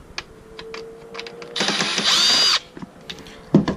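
A power screwdriver backs out a screw holding a wiring harness to a Honda S2000 dashboard, giving one sharp whir of about a second amid light clicks and handling noises.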